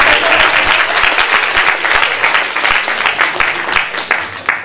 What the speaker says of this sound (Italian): Forse poi ci va un applauso.